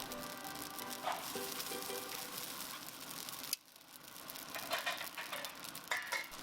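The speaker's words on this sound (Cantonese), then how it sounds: "用中快火同埋1茶匙嘅油，將啲配料炒大概1到2分鐘，令到佢哋嘅香味釋出" Shredded ingredients stir-fried in a wok with a little oil over medium-high heat for Singapore noodles produce a soft, steady sizzle with intermittent stirring scrapes, fairly quiet and without talk.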